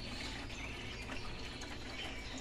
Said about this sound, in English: there's a little water fountain. You can hear it. There's water going through here.